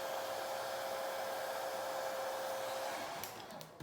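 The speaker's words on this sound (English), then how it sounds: "turn off the hair dryer" A hair dryer blows on a beard in a steady, loud whir, then starts to wind down in the last second with a few clicks.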